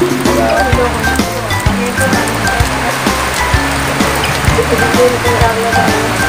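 Heavy typhoon rain pours down in a constant, loud rush, with splashing and gurgling water beneath it and no clear voices.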